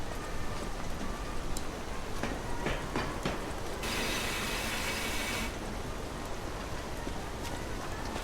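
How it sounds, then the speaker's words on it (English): Steady rain falls on a foggy day in mountain country, a continuous broadband hiss with a few soft patters and a brief brighter surge midway, no voices. "It's a rainy old day in Krot."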